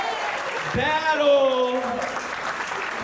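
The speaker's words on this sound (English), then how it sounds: "Give him a round of applause" Crowd applause and cheering over a single shouted voice at a comedy club, lively and continuous throughout.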